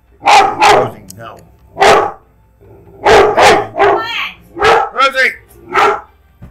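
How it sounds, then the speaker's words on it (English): A dog barks loudly and close indoors, sharp repeated barks in uneven bursts with a whimpering yelp mixed in, while the mailman parks outside. "That's my dog."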